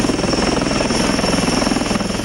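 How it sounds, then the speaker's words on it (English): Indian Army Advanced Light Helicopter Dhruv, a twin-engine helicopter, in flight at high altitude over the Siachen region; steady loud rotor thrum and engine whine heard from on board, continuous throughout. "India today is on board a special Indian Army Advanced Light Helicopter Dhruv, and we are starting our journey to the world's highest battlefield."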